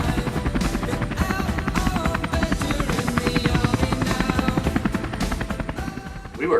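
A military helicopter's rotor chops steadily and loudly throughout, a continuous close thudding drone during an Army exercise at a fort.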